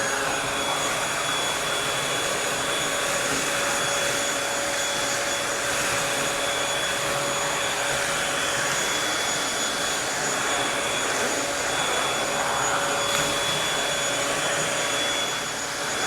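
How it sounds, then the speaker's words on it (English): A Bissell Featherweight stick vacuum cleaner running continuously with a steady high-pitched motor whine and airy rush, close and unchanging for the whole duration. "we're gonna use the Bissell vacuum right over here"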